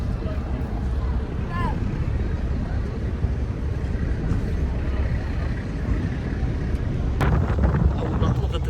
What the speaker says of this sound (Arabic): أول ما طلقت الباخرة بدت ريح قوية